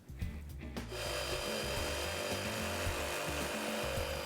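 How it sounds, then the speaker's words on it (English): A jigsaw starts up after a few quiet taps and then cuts steadily through clamped plywood, a close rapid rasping buzz that runs without pause to the end, with no speech. "I gotta start with the pilot hole and then get the jigsaw out."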